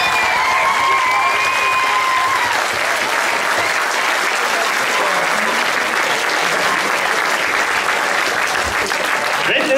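A concert audience at a youth song contest applauds the technicians, dense sustained clapping close by and loud throughout, with a few voices and a high tone briefly over the start.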